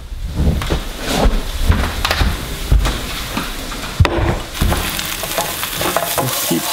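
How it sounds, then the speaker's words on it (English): Onions sizzle in a hot pan for a breakfast hash while a spoon stirs and scrapes through them, a steady close crackle broken by repeated clunks and scrapes against the pan. "Just keep stirring the onions. We want to get those just a little brown."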